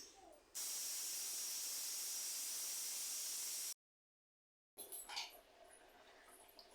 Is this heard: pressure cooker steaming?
yes